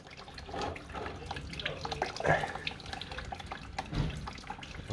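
Engine coolant from a BF Ford Falcon drains into a pan with a continuous trickling, splashing pour and occasional drips, moderately close and fairly quiet.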